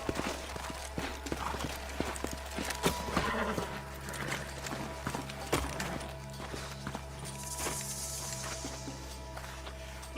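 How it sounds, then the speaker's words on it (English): Horses in the video game Red Dead Redemption 2 clip-clop steadily over the ground, with irregular hoof impacts, occasional snorts and a faint whinny over a low rumbling ambience. "Let's hold up a minute and find a spot for our horses."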